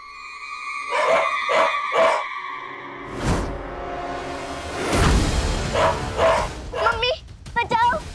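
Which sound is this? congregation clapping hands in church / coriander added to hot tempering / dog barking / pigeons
dog barking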